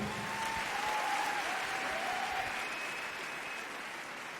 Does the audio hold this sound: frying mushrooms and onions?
no